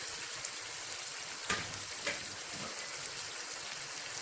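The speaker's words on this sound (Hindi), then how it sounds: "अब मैं इसकी थोड़ी सी भुनाई करूंगी और साथ साथ मसाले भी ऐड करती हूँ।" Softened tomatoes fry in a pan for an anday chanay masala, giving a constant soft, hissing sizzle with a couple of brief scraping stirs partway through.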